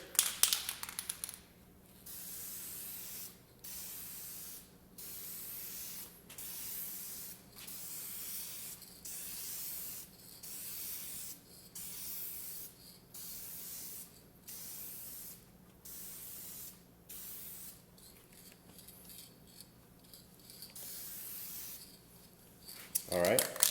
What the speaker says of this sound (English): So I'm going to apply my first coat here.